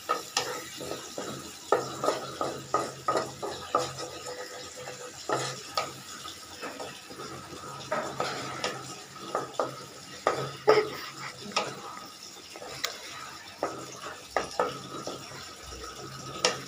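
Spice masala of ginger-garlic paste, cumin, turmeric, chili powder and salt cooks down with a little water in a pan, a spoon scraping and stirring in repeated rhythmic strokes over a soft, steady sizzle.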